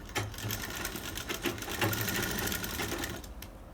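An electric sewing machine runs in steady bursts as it stitches piping onto fabric for a garment such as a blouse. The mechanical whir is close and continuous, with slight changes in speed and no talk over it.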